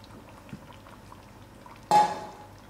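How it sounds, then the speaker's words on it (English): Beans go into a slow-cooking pot of trotters in one short splashy plop with a bright metallic clink, loud and brief against a quiet kitchen background. "Now I'm gonna add in my beans to it."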